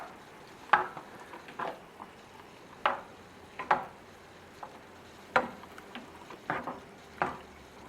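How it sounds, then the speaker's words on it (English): Steak sauce made with dry cream sherry bubbling at a light simmer in a pan, with a soft steady sizzle broken by several sharp clinks and scrapes of a utensil stirring, close and fairly quiet, no voices. "get the mixture to a light simmer and let that simmer down into a glaze"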